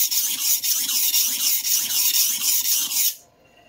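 A stainless steel santoku kitchen knife is drawn over a sharpening stone in quick, rhythmic rasping strokes, about a dozen close, bright scrapes in three seconds, then it abruptly stops.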